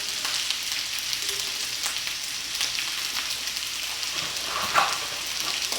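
Kung pao chicken fried rice with red bell pepper and peas sizzles in a hot pan as a steady, even crackle of frying. Faint scraping stir sounds surface now and then, with no talk.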